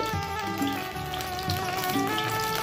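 Cinnamon crackles in hot mustard oil, a steady soft sizzle with faint bubbling close by, no voices.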